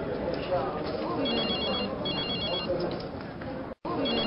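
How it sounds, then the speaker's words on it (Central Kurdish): A telephone rings in a TV drama scene, its electronic ring repeating in short bursts above steady background talk and room noise. "تەلەفۆنە"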